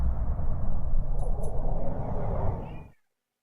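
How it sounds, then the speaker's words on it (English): A cat meows near the microphone in an indoor room, giving a drawn-out, fairly loud call over a rumbling background for about three seconds before everything cuts off abruptly. "What do you want, cat?"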